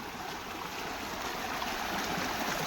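Floodwater flows strongly by a pond in a constant, broad rushing wash, even and unbroken with no voices.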